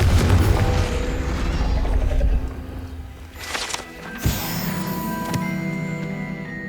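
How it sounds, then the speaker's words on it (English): A Confringo fire spell blasts in Hogwarts Legacy on PS5, a booming burst with crackling magical shimmer and a sharp impact, loud and close amid game effects. "Confringo."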